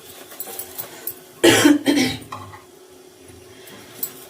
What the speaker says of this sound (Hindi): खांसी भी है, जुकाम भी है।